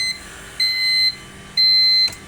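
An egg incubator's timer gives two steady electronic beeps of about half a second each, clear and close, as its switch is turned on, with a short click at the end.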